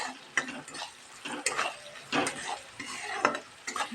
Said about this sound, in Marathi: मी इथे अर्धा चमचा सिक्रेट घरगुती मसाला घालत आहे छान असं परतून घेऊया